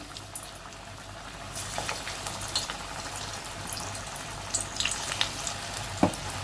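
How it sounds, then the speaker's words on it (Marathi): Spinach bhaji fritters of gram-flour batter frying in hot oil, a steady bubbling sizzle with scattered pops and crackles, close by and without talk. "तेल तापले, तेलमध्ये आपण भजी टाकून घेऊ"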